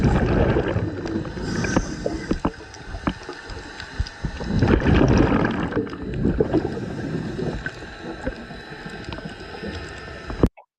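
A muffled, droning motorboat engine hums from above, heard underwater during a dive, with bubbling and gurgling noise close by, cutting off abruptly at the end.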